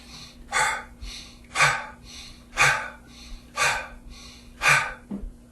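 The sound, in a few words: breath of fire breathing exercise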